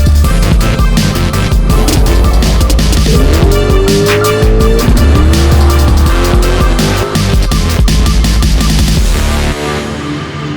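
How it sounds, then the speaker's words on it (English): A 400 small-block V8 S10 pickup doing a line-lock burnout, its rear tire spinning: loud, sustained engine roar with rising revs and screeching tire squeal close by, cutting off near the end. "So we got in neutral and the tire is spinning, right?"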